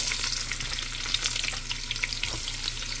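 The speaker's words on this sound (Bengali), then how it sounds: "তারপরে দিয়ে দিব পেঁয়াজ" Onions sizzling with panch phoron whole spices in hot oil for a Bengali labra vegetable dish, a steady crackling fry with occasional stirring clicks, close and alone.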